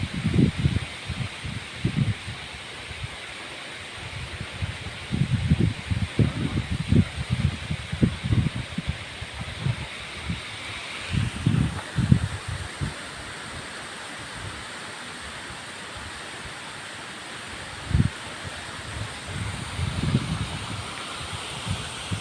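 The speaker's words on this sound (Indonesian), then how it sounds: "Anginnya berhembus kencang kali." Strong wind blows through trees at a transmigration settlement village, giving a steady hiss of rustling foliage broken by irregular low, buffeting gusts.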